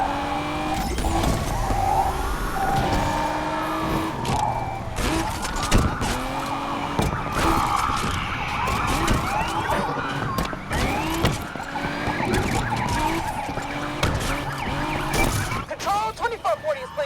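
Police sirens wail continuously during a video game car chase involving a Lamborghini Huracan, mixed with roaring engines and tyre noise, loud and dense throughout with game radio voices talking over it.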